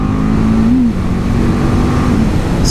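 A BMW 310 GS motorcycle engine is revved up toward 9,000 rpm, a loud, close, sustained engine whine that rises and briefly dips.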